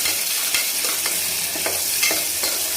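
Chopped onion frying in oil while being stirred in a pan for a spicy mutton curry, a steady sizzle broken by scraping stirs at irregular intervals, close and without talk.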